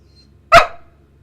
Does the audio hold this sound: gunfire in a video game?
no